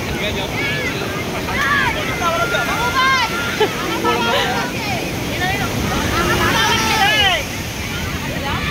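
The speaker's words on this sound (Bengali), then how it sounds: "এত সমুদ্রের উত্তাল ঢেউ যে একদম নিচে ফেলে দিচ্ছে একবারে।" Rough sea waves at Puri beach rush and roar as a broad wash of surf and wind, almost buried under many excited voices shouting and calling close by.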